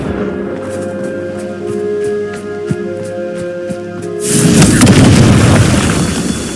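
A Confringo fire spell explodes in the Hogwarts Legacy video game, a sudden loud burst of roaring noise after a quieter stretch of tonal game music and soft ticks, sustained for about two seconds.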